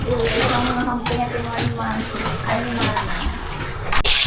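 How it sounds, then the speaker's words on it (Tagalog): Water runs steadily at a riverside work site in Sinait, Ilocos Sur, a broad continuous rush that fills the whole stretch, with a faint voice underneath. "Okay, may tubig naman tayo rito."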